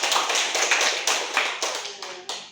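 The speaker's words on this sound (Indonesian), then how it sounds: "Tepuk tangan buat kita semua" A small group claps in a few loose bursts of sharp, close hand claps, fading between rounds.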